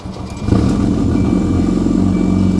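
A big-turbo Volvo 240 engine roars loud and close, picking up sharply after a brief quieter moment and then holding a steady, throaty drone with no talking over it.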